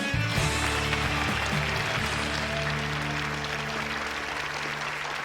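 A television talk show studio audience applauds, a dense, steady wash of many hands clapping that holds loud and even throughout, with a low hum beneath.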